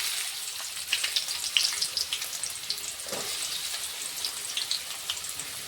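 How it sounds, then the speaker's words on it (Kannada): Onions fry in oil in a kadai with a steady bright sizzle and scattered crackling pops, alone without talk. "ಸ್ವಲ್ಪ ಈರುಳ್ಳಿ ಫ್ರೈ ಆಗುತ್ತೆ"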